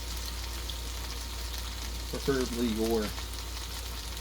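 Food sautés in a pan while General Tso chicken is cooked, a steady soft sizzle running throughout under a brief spoken phrase.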